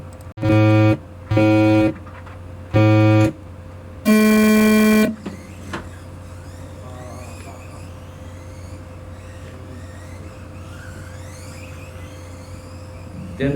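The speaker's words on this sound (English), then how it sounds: "3 beeps and we go." Three loud electronic start beeps before an RC car race, the first two short and evenly spaced, then a longer lower-pitched tone, followed by distant engine whine and crowd murmur.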